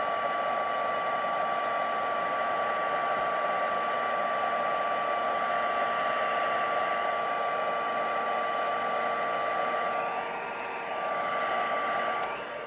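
A heat gun blows steadily to melt embossing powder, giving a continuous loud whooshing hum that holds for the whole stretch with a brief dip near the end.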